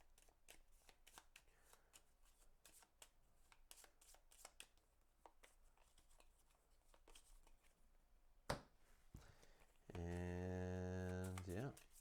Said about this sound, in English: Let's just shuffle up the 2.